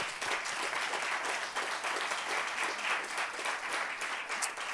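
A church congregation applauds steadily during a service, a continuous wash of clapping hands at moderate distance with no pauses.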